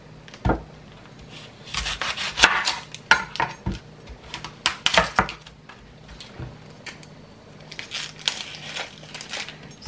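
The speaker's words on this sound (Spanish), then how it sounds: "Picar la cebolla." Knife chopping onion on a cutting board while preparing bistec ranchero, an irregular series of close, crisp chops and scraping rubs with no talking.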